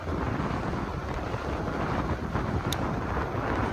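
Strong wind roaring across the microphone while riding a Happy Run G50 electric bike, a loud, continuous buffeting rumble that fills the whole stretch without letup.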